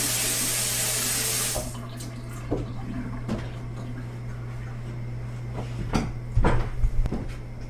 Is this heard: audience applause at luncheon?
no